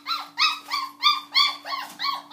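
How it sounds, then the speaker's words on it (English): A dog whining to keep playing after playtime ends gives a run of about eight rhythmic, high-pitched whimpers and yips, close and clear, with no talk over them. "That dog wants to play more."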